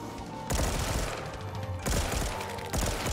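Bursts of WWII-era rifle fire in Black Ops 3 Custom Zombies, with two or three loud, close shot sequences that crack out over a steady game background, each followed by rattling, thudding tails.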